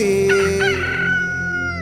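A rooster crows once, loud and close, in a single drawn-out, wavering call that lasts nearly two seconds with no other sound around it.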